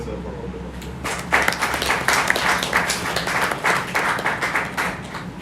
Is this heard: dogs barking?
no